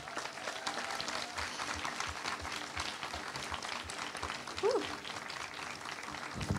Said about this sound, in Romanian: O să-mi rog colegii să ne aplaudăm părinții.